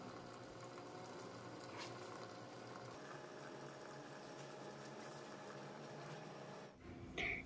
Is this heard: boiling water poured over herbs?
yes